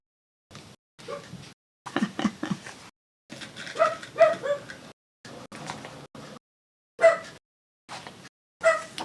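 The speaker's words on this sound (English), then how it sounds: "He just decided to bark at the door." A dog barks at a house door in short separate bursts with quiet gaps between them, close by and moderately loud.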